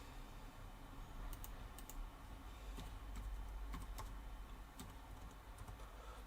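Keys tapped on a computer keyboard while filling in a room name in a web conferencing setup, a faint, irregular patter of clicks over a low steady background hum.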